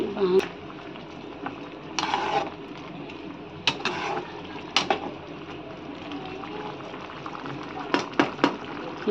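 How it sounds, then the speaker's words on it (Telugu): Chicken curry seasoned with garam masala boiling hard on a high flame, a steady close bubbling bed broken by short louder pops and spatters, with no talk over it. "బాగా ఈ నీళ్ళు మొత్తం ఇనికేదాకా పెద్ద మంట మీద ఆంకం పెట్టేద్దాం"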